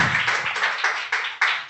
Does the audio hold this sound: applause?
yes